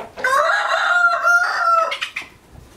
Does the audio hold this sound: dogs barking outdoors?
no